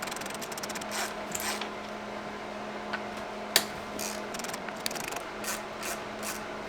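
Ratchet wrench loosening 12mm bolts on a Subaru WRX FA20 intercooler during a clutch job, rapid repeated clicking pawl bursts with a couple of sharp metallic knocks, close and alone.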